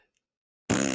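A voice blurts out a short, loud, raspy imitation of a fart, coming abruptly after near silence.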